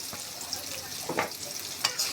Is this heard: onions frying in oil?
yes